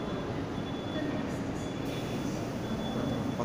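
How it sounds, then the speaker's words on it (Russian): A Moscow metro train pulls out of Nagatinskaya station as a steady, loud rumble of wheels and motors fills the platform, with no clear rise or fade across the stretch. "как отправится поезд в сторону Нагорной"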